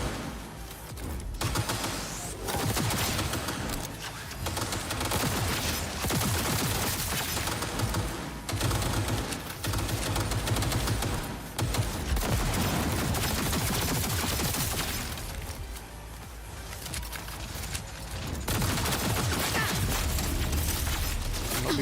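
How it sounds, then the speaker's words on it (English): Heavy, sustained gunfire in Cyberpunk 2077 rattles on almost without pause for over twenty seconds, loud and close, with only brief lulls between long bursts and no speech. "He's back to shooting at me now."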